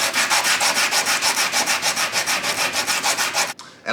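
Rhythmic back-and-forth hand sanding of a steel knife blade, steady rasping strokes about four or five per second, close and loud, stopping abruptly near the end.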